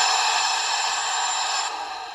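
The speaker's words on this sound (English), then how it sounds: "F14 is the safety valve." Steady hissing release from the safety valve of an LGB Forney model steam locomotive fitted with a Zimo MS950 sound decoder, a continuous bright loud hiss lasting throughout and easing slightly near the end.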